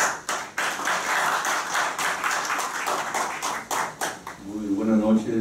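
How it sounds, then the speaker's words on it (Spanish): Audience applause at a criminal law panel discussion on pretrial detention, a dense burst of clapping from a room of listeners lasting several seconds, then tapering as a voice begins speaking near the end. "Recibimos un fuerte aplauso."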